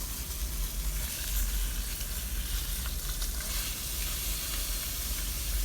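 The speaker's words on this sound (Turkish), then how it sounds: "Kızartmaya devam ediyorum" Continuous dense sizzling and crackling of a whole chicken frying in oil in a covered pot, muffled and steady, with a low rumble underneath; no voices.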